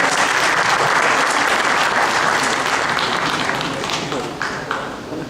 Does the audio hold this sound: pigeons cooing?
no